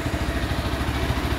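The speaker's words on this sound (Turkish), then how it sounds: "egzoz sesi var. Euro normlarından dolayı kısılmış bir ses" Zontes C200 chopper motorcycle, its Euro-norm muffled exhaust giving a steady, close, pulsing idle throb with no talk.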